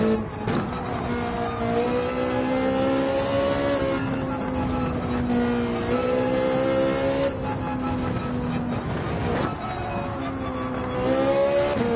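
Race car engine at sustained full throttle in Gran Turismo 7 during a world series race, a loud continuous harmonic drone rising and dipping slightly with gear and speed changes, with a brief lift near the end.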